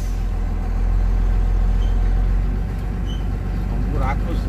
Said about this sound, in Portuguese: Olha o caminhão aí, gente.